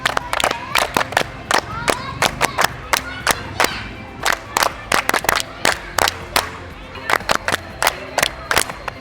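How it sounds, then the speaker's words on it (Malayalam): Students clapping together to congratulate the winning group after a hoop relay dodge game, sharp rhythmic bursts of group claps repeating in sets, with crowd voices and shouts between them. "ക്ലാപ്പ് ചെയ്തിട്ട് കൺഗ്രാറ്റുലേറ്റ് ചെയ്താൽ പോരെ?"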